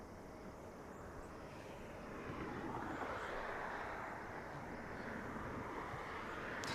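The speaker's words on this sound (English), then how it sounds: "Up next to land is United Airlines coming in from San Francisco." A United Airlines Boeing 737 MAX 9 jet on landing approach at Los Angeles, heard as a faint, distant broadband engine roar that slowly builds and holds steady amid light wind noise.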